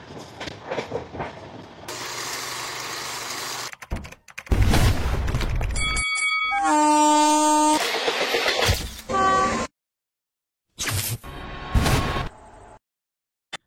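Express train 17221, running from Kakinada Port to Mumbai LTT, rumbles loudly in choppy bursts, then sounds a long, strong horn blast midway before the noise cuts off into silence and brief return rumbles.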